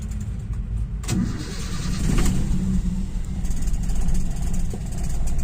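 A car engine fitted with an Aisan carburetor runs steadily with the gas pedal pressed a quarter of the way, a loud continuous drone that swells slightly partway through.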